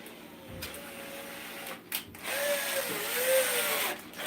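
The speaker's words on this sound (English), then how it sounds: "Let me get a small drill." A small drill whirs with a mechanical, ratcheting whine whose pitch dips and rises as it bores a hole in wood, fairly close and steady.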